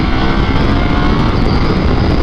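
A 2023 KTM 890 SMT motorcycle engine roars loud and close while riding on a closed road, with a continuous dense drone and wind rush.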